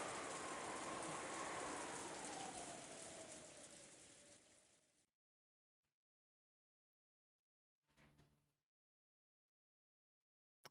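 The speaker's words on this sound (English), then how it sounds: "the sound of the wind and rain began to fill the room bit by bit" Steady hiss of rain and wind from a visual novel, loud and even for about five seconds before cutting out abruptly, followed by silence and a brief faint burst.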